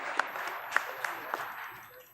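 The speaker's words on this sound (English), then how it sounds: "Give them a round of applause." Light applause for quiz contestants at a grand finale, a few sharp claps standing out over a thin, scattered patter that fades toward the end, faint and distant.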